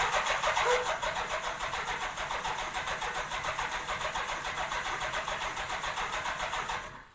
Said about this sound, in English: Let me turn the key on and I'll see if I can pump some fuel through it.